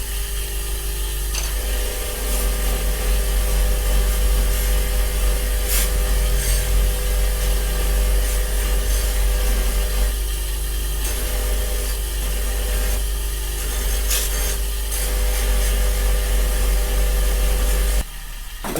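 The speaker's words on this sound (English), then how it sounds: "I've got a satin wheel on my grinder here. I'm going to spin that up." A bench grinder fitted with a satin wheel cleans carbon build-up off a knife blade: a loud, continuous whirring grind with rubbing friction, holding steady close up for about eighteen seconds before cutting off abruptly.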